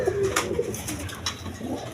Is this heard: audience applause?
no